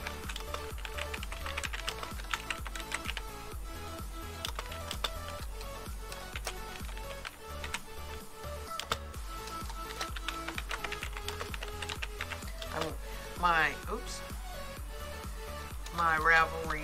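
Fingers type on a computer keyboard in a stream of rapid, uneven clicks and taps that run throughout, close and moderately quiet, with brief voice-like sounds and tonal background noise near the end.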